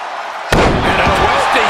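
A snapmare takedown in the WWE 2K23 wrestling game lands as one sharp, loud slam with a booming impact and crowd noise after it, and a commentator speaks over the top.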